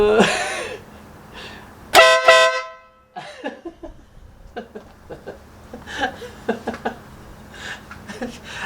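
Air horn fitted to an SV 650 motorcycle gives one loud, brassy blast, then people react with chuckles and voices afterward.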